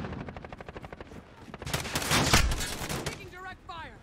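Video game gunfire: a rapid automatic burst of evenly spaced shots, then a louder, denser volley swelling into a roar before fading, heard close and prominent.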